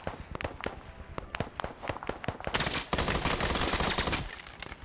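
Type 56 AK gunfire in a Vietnam-era PvP shooter game: a string of sharp separate shots, then a loud dense burst of rapid fire that fades toward the end, with no talk over it.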